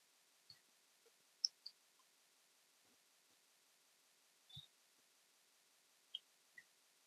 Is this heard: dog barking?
no